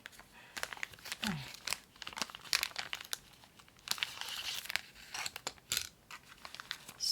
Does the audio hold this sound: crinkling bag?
yes